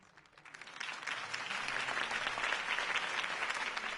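Crowd applause at a political rally in a Batman video game, swelling from a few claps into sustained, dense clapping that holds steady and fairly loud.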